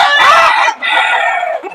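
A loud, close naked-neck rooster gives a long, piercing crow in two strained phrases.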